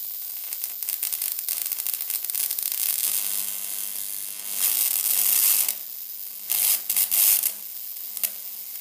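High-voltage corona discharge from a home experiment gives a steady, loud hiss and crackle throughout, with bright broadband bursts swelling up at intervals before settling back to the constant sizzle.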